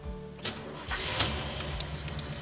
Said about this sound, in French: Démarrer la bike.